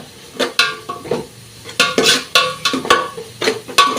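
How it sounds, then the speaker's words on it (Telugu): Egg biryani masala is stirred and fried in a pan, with repeated scraping, clattering strokes of a utensil against the metal and a faint sizzle between them. No one speaks. "సో ఇప్పుడు ఇవన్నీ అయితే బాగా మిక్స్ చేసి బాగా బాయిల్ అయ్యేదాకా అయితే ఫ్రై చేసుకోవాలన్నమాట"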